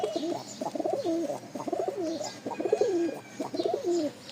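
Rajshahi flying pigeons cooing repeatedly in rhythmic, throaty bursts, close and clear, with faint chirps in the background and no speech.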